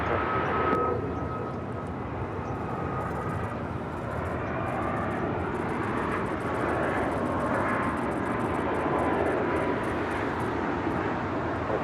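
A SkyWest jet taking off from runway 25 right at LAX, a loud continuous engine roar that holds steady and fills the whole stretch, heard from a distance with broad rumbling power.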